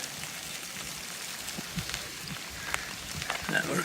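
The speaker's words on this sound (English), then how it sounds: "but it is raining now." Light rain falling during a hike in Zion National Park, a steady soft patter of drops with faint scattered taps, continuous and gentle throughout, growing slightly louder toward the end.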